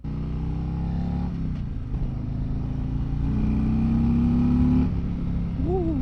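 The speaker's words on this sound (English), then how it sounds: "Oh, that engine actually sounds really good." Harley-Davidson Road King motorcycle engine running, a deep steady rumble that rises in pitch as it revs, loud and close throughout, with a short higher tone near the end.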